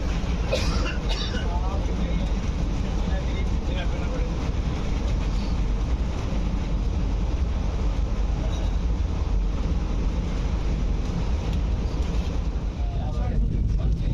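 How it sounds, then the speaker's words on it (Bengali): Vande Bharat Express on its Bhagalpur–Howrah run, racing through heavy rain: a loud, steady rumble and hiss of wheels, wind and rain that fills the whole stretch without pause. "প্রচণ্ড বৃষ্টির মধ্যে আমাদের ট্রেন ছুটে চলেছে হাওড়ার উদ্দেশ্যে।"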